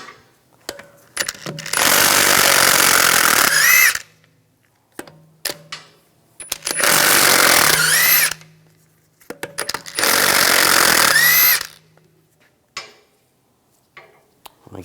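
Power tool with a 17mm socket unscrewing wheel lug studs on a 2009-2013 BMW 328i xDrive, three long loud whirring bursts separated by pauses with small clicks and handling noises between them.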